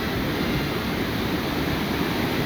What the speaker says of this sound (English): After a major storm, we have an extra waterfall on the left.